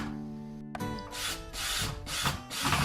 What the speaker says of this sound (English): I'm drilling some pilot holes and then screwing in these nice little brass filing cabinet handles